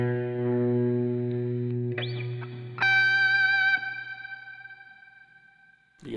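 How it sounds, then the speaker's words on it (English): An electric guitar plays a tune through a heavy reverb effect on a live stream: a few sustained, clean notes ring out alone and decay slowly into a long echoing tail. "You can never have too much reverb on this."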